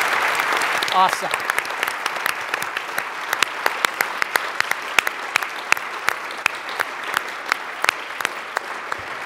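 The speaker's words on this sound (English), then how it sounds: "A big round of applause for Weyni," A conference audience at a Canadian Club arts leadership event gives sustained applause, a dense steady wash of many hands clapping throughout, with a brief spoken word over it near the start.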